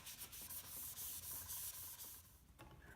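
Hand sanding with 220 grit sandpaper to knock down raised grain on a wooden carved-top guitar body, a steady, soft broadband rubbing hiss with quick rhythmic strokes, fairly quiet and alone.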